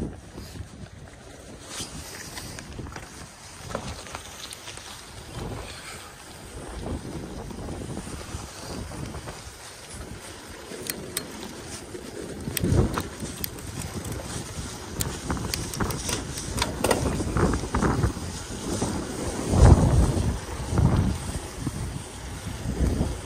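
Strong wind buffeting the microphone during a bike ride along the Ballona Creek bike path in Culver City, continuous rumbling gusts that swell louder and rougher toward the end.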